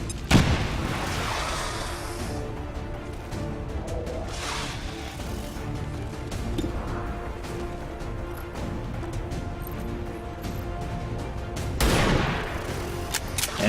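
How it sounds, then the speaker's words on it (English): Grenade blasts in the video game XCOM 2: a heavy boom opens, another rumbling burst follows mid-way and a final loud detonation comes near the end, all over a dense, constant game soundscape. "So we are going to use our second grenade."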